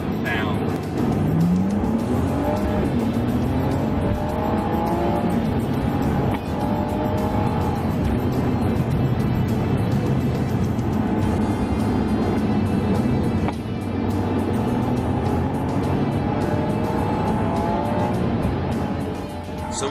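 A Ferrari sports car engine roars steadily throughout, rising and falling in pitch as it revs and shifts, loud and close, with voices faintly underneath.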